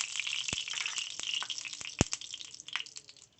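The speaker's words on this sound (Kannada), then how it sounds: "1 ಬೌಲ್ ಈರುಳ್ಳಿಯಲ್ಲಿ 3/4 ಭಾಗದಷ್ಟು ಈರುಳ್ಳಿಯನ್ನು ಹಾಕಿ ಫ್ರೈ ಮಾಡಿಕೊಳ್ಳೋಣ" Onions frying in oil in a pan for a hyacinth bean sambar, a faint, steady sizzle broken by a few sharp pops and crackles, with no voices.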